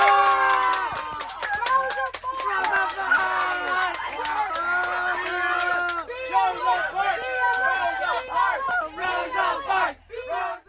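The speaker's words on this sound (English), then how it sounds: "Kids chanting Rosa Parks, BLM, laughing and cheering" Crowd of children on a school bus chanting in unison, shouting, laughing and cheering, loud and close with overlapping voices throughout, the rhythmic chant rising and falling.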